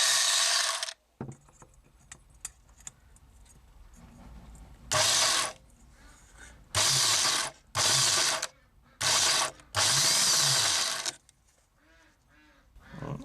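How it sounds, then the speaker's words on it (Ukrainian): Electric shears chew through the rotten bottom of a VW T3 rear hatch in about six loud, close bursts of rattling, ratchety buzzing, with quieter gaps between cuts. "але електроножниці в цьому ділі більш помічні"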